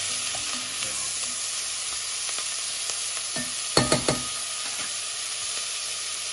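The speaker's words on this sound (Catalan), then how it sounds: "I l'incorporem en aquest sofregit de la cansalada." Onion fries in a bacon sofrito in a pan with a continuous close sizzle, punctuated midway by a quick cluster of stirring clatters.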